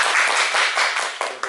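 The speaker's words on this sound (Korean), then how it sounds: "박수." An audience at a lecture claps, a brief burst of close, dense hand clapping that tapers off into a few scattered claps.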